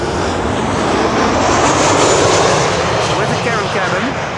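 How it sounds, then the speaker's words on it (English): KLM airliner arriving from Bergen at Schiphol's Kaagbaan runway, a loud, close engine roar sustained throughout, with someone talking over it. "KLM flight 1164 arriving from Bergen."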